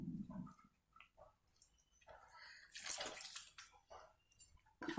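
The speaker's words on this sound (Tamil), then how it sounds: "வெந்ததுக்கப்புறமா புளி ஊற்றிடலாம்." Tamarind water is poured into simmering white pumpkin sambar, a soft splashing and trickling pour that swells in the middle, with quiet kitchen clatter around it.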